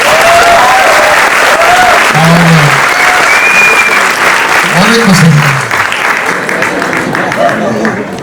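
Loud, steady applause from a large audience at a press event for a singer fills the whole stretch, with a voice speaking over the clapping throughout.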